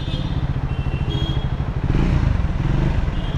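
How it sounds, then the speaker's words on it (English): A Triumph Scrambler 400 X motorcycle with twin exhaust idles with a deep, throbbing exhaust pulse, close by, rising slightly in loudness partway through before settling back. "The way the engine sounds, it's a double barrel exhaust"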